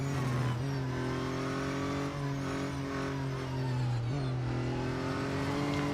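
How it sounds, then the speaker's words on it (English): A race car's petrol engine in the video game Real Racing 3 accelerates through its gears, with a loud, close, steady drone whose pitch climbs and then drops briefly at each shift. The engine heard here sounds whiny at speed, and nobody talks over it. "as it starts off, you've got the traditional petrol engine kicking in, and then as you hit the top speeds,"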